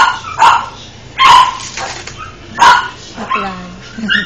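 Loud, close barks from a dog, about four sharp bursts spaced apart, mixed with a softer whimpering yip near the end.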